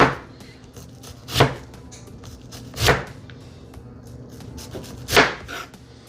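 A knife chops onions for chicken salad meal prep, giving three sharp, separate strikes spaced about a second and a half apart, close and clear over a quiet kitchen background.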